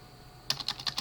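Quick keystrokes on a computer keyboard start halfway through, about six clicks in a fast, even run, close and fairly quiet, with no voice.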